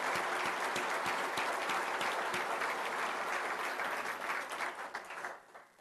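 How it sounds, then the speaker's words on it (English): Applause from a dinner-meeting audience honoring John fills the room: dense, steady clapping from many hands that holds strong and then tapers off near the end. "please, let's give John a round of applause"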